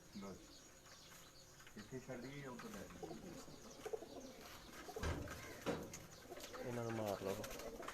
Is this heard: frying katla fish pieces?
no